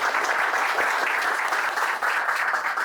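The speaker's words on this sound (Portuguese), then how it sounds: "Salva de palmas aí, Alessandro." An audience at a conference on digital trends and AI breaks into sustained applause for a speaker, a dense wash of clapping hands that stays even and loud throughout.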